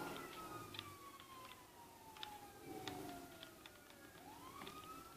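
A police car siren in the GTA 5 video game wails faintly in the background, a sweeping tone gliding down and then rising again over a low hum.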